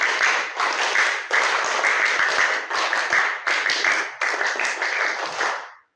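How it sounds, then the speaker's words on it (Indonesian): Schoolchildren perform the scout clap, a rhythmic group clapping pattern done twice, loud and close, in several crisp bursts separated by short pauses before ending abruptly. "2 kali tepuk pramuka"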